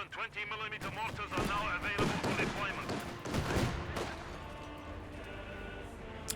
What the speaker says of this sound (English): And there's that flak track, just shooting off.